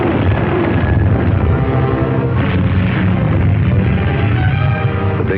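Naval 40 millimeter guns pound an enemy-held Pacific island in 1945 wartime footage, producing a dense, continuous barrage of booms and bursts with no pause, heard through a narrow, old-film quality.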